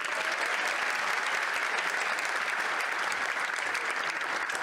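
Steady, dense audience applause fills a dance competition show hall, loud and continuous without a break.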